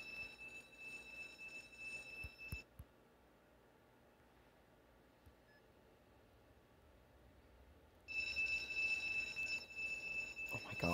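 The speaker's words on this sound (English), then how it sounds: "Turn off that stupid alarm." An alarm in the Stickman Survival video game rings as a steady high electronic tone over noisy background, cuts out abruptly for several seconds of near silence, then starts again just as loudly.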